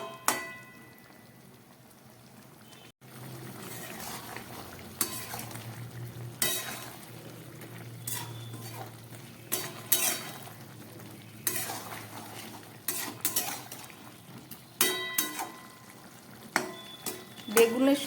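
Eggplant curry with a little water bubbling in a pan over medium gas, a quiet wet bubbling under repeated scraping and clinks of a spoon against the pan.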